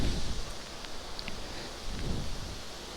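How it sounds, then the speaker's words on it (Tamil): Soft, steady hiss of light rain falling outdoors in Kudremukh National Park, Karnataka, with a gentle wash of wind and no voices. "மழை தூருது மக்களே, மழை தூருது."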